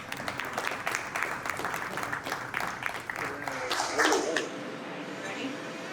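Guests at a wedding reception clap and cheer for Melissa. The applause swells, then thins out toward the end while nearby voices murmur underneath.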